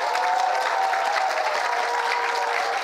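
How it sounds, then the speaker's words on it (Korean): Church congregation applauding at the end of a week-long family healing revival sermon, a steady, dense clapping that fills the room at moderate loudness without a break, with no speech over it. "수고하셨습니다. 박수."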